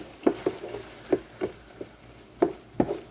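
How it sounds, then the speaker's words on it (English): Tomato paste being stirred into Hungarian goulash in a pot, with a handful of soft scraping stir strokes against a low background sizzle, fairly close and with no talking. "tomato paste in. Give that a stir around."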